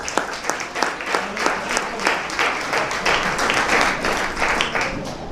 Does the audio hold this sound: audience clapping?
yes